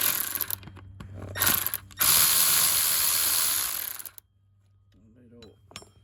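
A hand ratchet loosens a 10 mm bolt on a Toyota 4.7L V8 engine, giving close clicking pawl bursts, then a long loud continuous ratcheting run before it stops and a few faint knocks follow.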